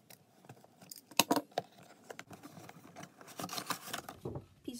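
Action figure packaging is opened by hand, with quiet plastic crinkles, scattered clicks and rustling, and a few sharper snaps, all close and soft.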